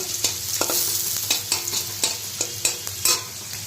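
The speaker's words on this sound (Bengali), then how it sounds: "এখানে আলু ভাজা করছি" Potatoes fry in a pan with a steady sizzling hiss, broken by a regular series of sharp scraping knocks from a spatula stirring against the metal, close and alone.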